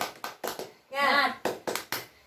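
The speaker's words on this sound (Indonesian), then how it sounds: "Coba tepuk semangat dulu." Children perform a rhythmic 'tepuk semangat' clapping chant, short sharp bursts of claps in a set pattern mixed with their chanted voices, close and clear.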